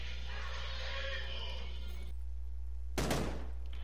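A single sharp gunshot cracks out near the end in the battle royale game PUBG, loud and sudden after a stretch of rushing game noise that cuts to quiet.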